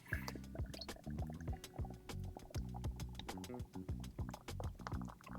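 Sierra Nevada Pils lager pours aggressively into a glass, a quiet run of gurgling, bubbly drips and fizzing carbonation with irregular little plops close by.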